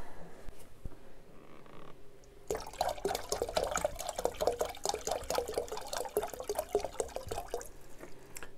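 Nutrient water poured into a container for growing cucumbers indoors in winter: after a quiet start with faint clicks, a steady splashing, gurgling pour runs for several seconds, close and fairly loud, then eases off.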